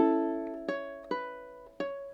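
A ukulele strums a song's chorus with a sliding chord move, four plucked attacks in an even rhythm, each ringing briefly, close and clear without any talking.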